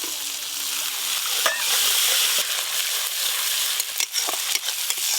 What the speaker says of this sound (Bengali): শুকনো লঙ্কা জিরে বাটা হলুদ গুঁড়ো ধনে গুঁড়ো মশলাটা যাতে না পুড়ে যায় একটু জল দিয়ে দেবো